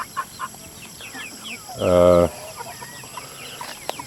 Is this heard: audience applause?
no